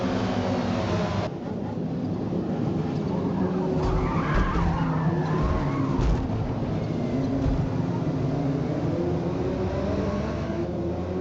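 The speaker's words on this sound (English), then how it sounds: "That unfortunately ended in a contact with an Audi, causing a crash." Race car crash in the Forza Motorsport video game after contact with an Audi: a steady, dense engine and tire roar with skidding scrapes and a brief impact burst around four to six seconds, no talk.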